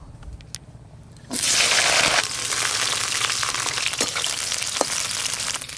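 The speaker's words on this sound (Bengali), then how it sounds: "এবার এই ক্যাপসিকামগুলো হালকা করে ভেজে নেব।" Capsicum hits hot oil and a loud sizzling starts after about a second, then continues steadily with small crackles and scrapes of stirring.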